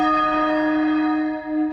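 Church bells ringing for the coronation of King Charles, a loud, clear bell tone with a long ringing hum that swells and fades slightly, heard alone without speech.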